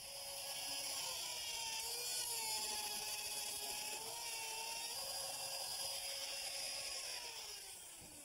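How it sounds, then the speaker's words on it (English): A router fitted with a bearing-guided templating bit cuts a hinge mortise in wood, a steady, fairly quiet high whine with slight shifts in pitch as it moves around the template. "Now I'm going to take my router. With the templating bit, there's a bearing right here. I can ride it right around the inside of my template and cut a perfect mortise."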